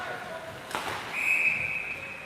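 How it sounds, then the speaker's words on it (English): A referee's sharp whistle blast rings out for about half a second at a bantam-level youth ice hockey game between Edina and Bemidji, heard over rink ambience and a play-by-play commentator's voice. "we got a whistle on that"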